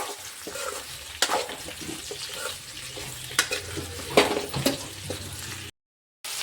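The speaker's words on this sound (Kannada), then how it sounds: "ಇದನ್ನು ಹಾಗೇನೆ ಹಾಕ್ಕೊಂಡು ಸ್ವಲ್ಪ ಇದನ್ನು ಫ್ರೈ ಮಾಡೋಣ ರೀ. ಎಣ್ಣೆ ಒಳಗೆ ಒಂದು ಸ್ವಲ್ಪ ಫ್ರೈ ಮಾಡ್ಕೊಳ್ಳೋಣ" Ridge gourd fries in oil in a pan with a low sizzle and the scrape and clatter of stirring, close by and with no talk, ending in a brief cut to silence.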